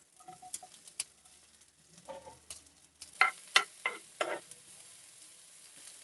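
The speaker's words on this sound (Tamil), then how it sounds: "இந்த வெங்காயத்தை இதோட சேர்த்துக்கலாம்." Chopped onion added to hot oil with ginger and garlic for Indian-style Gobi Manchurian, giving a crackling sizzle with a run of sharp pops and spatters close by, no voices.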